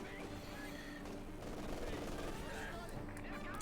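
Machine gun fire rattles in a continuous burst in the strategy video game Company of Heroes 2, a busy stream of small battle effects heard under a talking voice.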